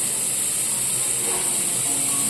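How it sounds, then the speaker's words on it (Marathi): Plenty of onions roasting in a pan for a Satara-style mutton dish, before any oil is added, give off a constant, even hiss that stays level and unbroken throughout, with no talking. "अशा प्रकारे आपला कांदा भाजत आला आहे"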